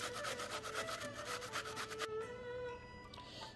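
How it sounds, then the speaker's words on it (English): Cabbage is shredded on a large grater with fast, rhythmic rasping strokes that are close and fairly quiet, then the scraping stops and softer handling noises follow. "I'm gonna be shredding the cabbage now as well with a different grater"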